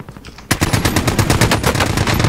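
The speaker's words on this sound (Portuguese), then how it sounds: "Eu pensei que era um fuzil, é uma metralhadora." Machine gun fire in Call of Duty Warzone, a sudden long burst of rapid, loud, evenly spaced shots that begins after a brief quieter lead-in.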